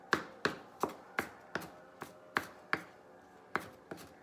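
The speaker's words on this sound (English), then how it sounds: "just run a knife a couple times through there" A knife chopping an onion on a cutting board, about a dozen crisp, evenly spaced thuds in a steady rhythm, close and clear with no talking.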